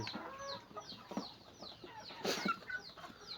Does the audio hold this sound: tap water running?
no